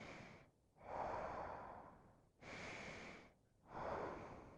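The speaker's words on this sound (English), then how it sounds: "the incessant sound of breathing coming from the pilot" A game pilot breathes heavily in a horror video game, slow loud breaths in and out repeating about three times, close and alone with no talk.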